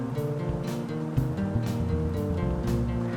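Filtered water poured steadily into a container to make brine for fermenting beets, a continuous close rushing splash lasting the whole stretch.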